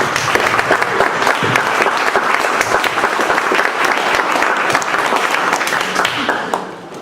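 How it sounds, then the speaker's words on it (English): A New York fireside-chat audience applauds Mark Roberge, CRO of HubSpot, with loud, sustained clapping from many hands and faint voices mixed in, tapering off briefly at the end. "So let's just have a round of applause for Mark."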